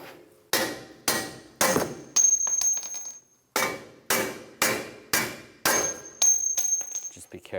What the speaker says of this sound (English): Using a hammer, I'm going to hammer these out.